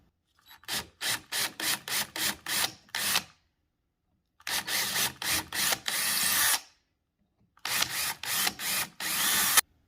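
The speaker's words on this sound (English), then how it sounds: "I need to drill them out a little bit" A power drill enlarges screw holes in an interior door, running in three bursts of rapid pulsing whirs separated by short pauses, close and fairly loud, with no talking.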